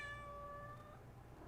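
A house cat gives one clear, fairly quiet meow lasting under a second against a low indoor hum.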